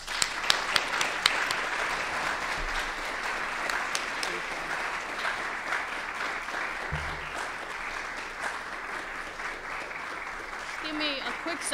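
An audience claps steadily and warmly throughout to welcome a speaker at a Day of Peace event, with a voice briefly audible at the start.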